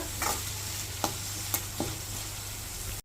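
Steady sizzle of urad dal sautéing in oil in a pan for cabbage thoran, with a few sharp spoon scrapes and clinks against the pan as it is stirred.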